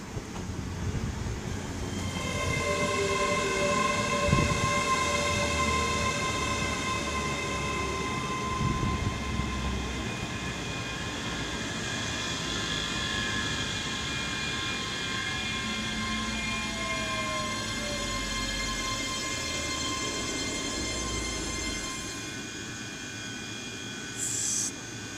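A ScotRail Class 385 electric train departs Polmont station, its steady motor whine and rolling rumble sustained for about twenty seconds before easing off, with no voices over it.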